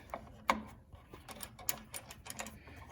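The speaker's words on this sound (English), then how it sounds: "And I'm gonna hit the wrench real quick." A hand wrench clicks in short ratcheting bursts while tightening a fitting during gas tank installation on a John Deere lawn tractor, close up and fairly quiet, with scattered mechanical clinks between the turns.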